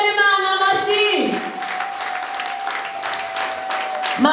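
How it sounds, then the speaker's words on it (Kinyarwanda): A church congregation applauding in praise of God, a dense burst of clapping that swells under a speaking voice and then carries on steadily to the end. "Mukomere Imana amashyi."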